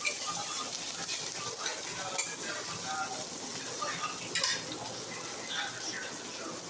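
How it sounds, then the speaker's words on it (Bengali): Ginger, garlic and onion frying in a pan, a quiet steady sizzle with occasional clinks of a utensil stirring against the metal. "আদা রসুনটা ভাজা হয়ে গেছে, আদা রসুন দিয়েছি,"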